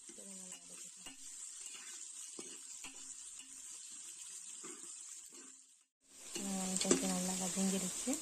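Chopped onions sizzle and are stirred in a pan for coconut milk biryani, a constant frying hiss with scattered scrapes and clinks, growing louder near the end.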